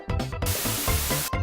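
Axe body spray from an aerosol can: a short hiss, then a longer, continuous spray of about a second, close and fairly quiet.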